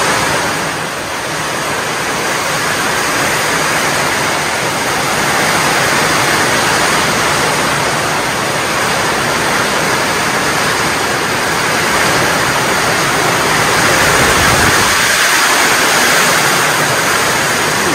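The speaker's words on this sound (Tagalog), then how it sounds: "Lambuhos ang malakas na ulan." A constant loud roar of heavy rain pouring down in the Philippine countryside, dense and unbroken throughout, with a brief gust-like swell near the end.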